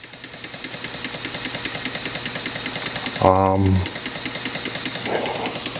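A small homemade model engine runs with a rapid, steady mechanical ticking and chugging that stays close and fairly loud, and someone speaks briefly midway over it.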